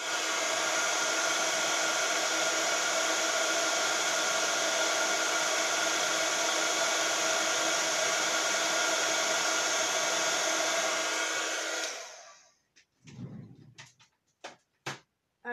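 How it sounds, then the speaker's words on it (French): A heat gun for craft embossing runs as a steady, loud broadband blowing roar for about twelve seconds, then switches off, leaving a few quiet clicks and handling knocks. "je vais préparer mon pistolet chauffant"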